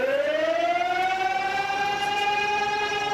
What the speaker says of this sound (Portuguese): A sirene de alerta para a cidade ser evacuada tocou várias vezes.